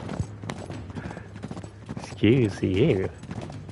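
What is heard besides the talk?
horse hooves clip-clopping in the video game Uncharted 3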